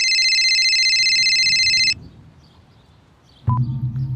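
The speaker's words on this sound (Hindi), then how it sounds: "तभी मेरा फोन बजा।" A mobile phone ringing, a loud electronic tone holding for about two seconds before stopping, followed by a pause and a beep as the call connects.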